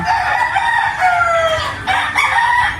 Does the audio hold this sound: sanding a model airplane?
no